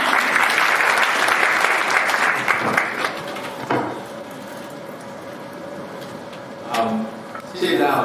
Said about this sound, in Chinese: 给大家这个掌声？